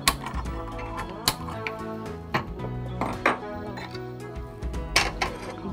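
A metal tawa griddle pan is set down on a stove for roasted brinjal gravy, giving sharp metallic clinks and knocks spread among kitchen clatter while people talk.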